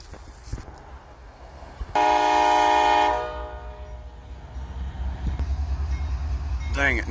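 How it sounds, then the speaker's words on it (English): A freight train with two engines on the rails outdoors: a loud, steady horn blast lasting about a second, then rumbling wheels and engine noise building through the rest of the clip. "Got two engines on the other rail."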